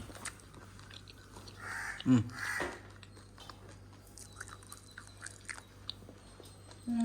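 A person eats a spoonful of homemade sunnundalu, a sweet lentil-and-jaggery laddu, giving soft close chewing and biting sounds with a low steady hum behind and a brief louder burst partway through.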